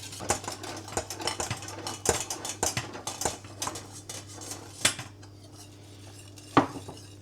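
A spoon stirs a pot of a cheese dish made with cheddar, scraping and clinking against the metal. The knocks are irregular and close, and a steady low hum runs underneath.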